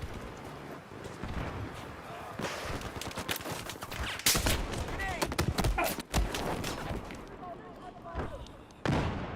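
Rapid bursts of gunfire crackle through a Battlefield 4 online match, dense fusillades and sharp shots with a machine gunner among them, mixed under in-game radio and player voices.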